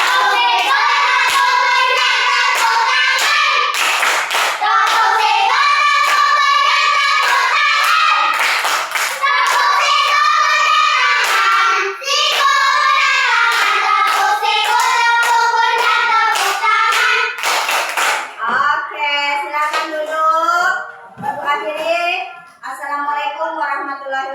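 Schoolchildren in a classroom chant together in unison and beat out rhythmic group claps, bursts of sharp hand slaps punctuating the loud sung counting, with the voices thinning near the end.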